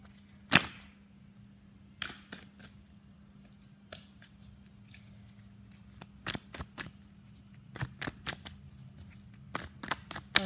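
Tarot cards are shuffled and pulled, giving sharp papery snaps and riffles in scattered bursts that grow busier toward the end, close by over a quiet background hum with no talking.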